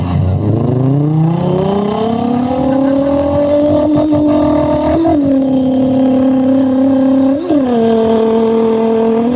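A voice imitates a bigger racing motorbike revving: a rising nasal engine whine that climbs, then holds a long sustained drone with two brief pitch jumps, close and loud for several seconds.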